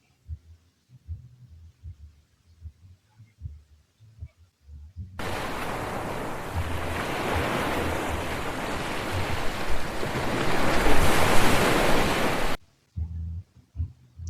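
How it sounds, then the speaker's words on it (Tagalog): After scattered low thumps, a loud, continuous roar of surf on a white-sand beach in Calatagan, Batangas, washes in and persists for several seconds, then cuts off abruptly. "So yun yung pinaka-dagat."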